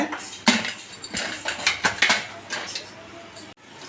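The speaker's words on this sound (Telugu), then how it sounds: "మళ్ళీ ఒక మూత పెడతాయి" A lid set down on a cooking pot in a home kitchen, a series of close metallic clinks and clatters, irregular and fairly loud, ending in a sharper clank.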